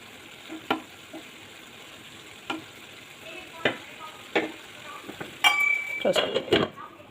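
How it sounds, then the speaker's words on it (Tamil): Intermittent scraping and clinking of a utensil stirring beans and carrots in a lidded pan, a few distinct strokes over a soft background sizzle, with a busier burst near the end. "இடையில இந்த மூடியை ஓப்பன் பண்ணி காயை கொஞ்சம் இப்படி கிளறி விடுங்க"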